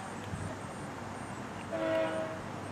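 A VIA Rail passenger train led by an F40 locomotive passes at a level crossing, with a steady low rumble and a brief horn-like tone rising near the end, fairly distant.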